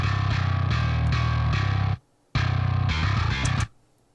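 Heavily distorted djent bass riff squashed by an L2 limiter, dense chugging palm-muted notes in two loud bursts separated by a short silence, with no talk over it.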